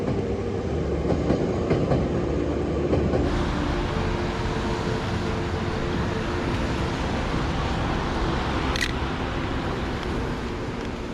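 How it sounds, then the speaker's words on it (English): Several trains rumble steadily across a river bridge in Tokyo, with a continuous loud clatter of rail cars and a brief sharp squeal near the end. "you get to see a total of 3 or more trains all passing this spot at the same"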